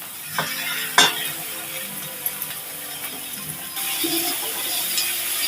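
Chopped onion and tomato stir-fried in oil in a pan, with a steady close sizzle under scraping spatula strokes and a couple of sharp clinks against the pan, no talking.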